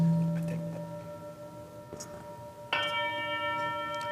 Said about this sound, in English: In the first gong, it is a sound of our body temple aligning with our spirit.